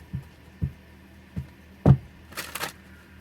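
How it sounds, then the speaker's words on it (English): Oracle cards are shuffled by hand in a quiet room, giving a few soft separate taps and thumps followed by a short papery riffle near the end. "Shuffle."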